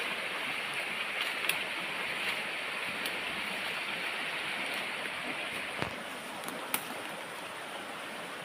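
Water flowing in a stream at a remote, untouched spot, a constant soft rushing wash with a few faint clicks and knocks.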